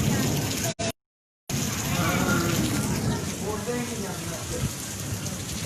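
Steady rain hisses and patters on a street in an Indian neighborhood, a dense close wash of drops that cuts out briefly and then resumes, with someone talking over it.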